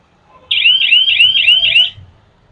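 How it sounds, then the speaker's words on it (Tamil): A loud, close electronic beep from a bike's digital security key as it locks, warbling rapidly for just over a second, then stopping, with no voices around it. "லாக்கிங் பீப் சவுண்ட் கேட்டிருக்கோம்"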